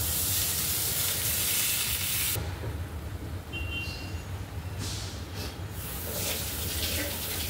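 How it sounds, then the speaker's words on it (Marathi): Oil hisses and sizzles steadily in a small kadhai as it heats for frying surmai fish, a loud continuous crackle that thins out midway and then picks up again. "तेल गरम करायला ठेवलेलं आहे मी"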